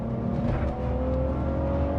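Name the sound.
BMW 325ti Compact E46 engine accelerating in second gear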